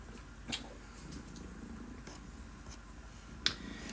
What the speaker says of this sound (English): My cat's here. She purrs very loud.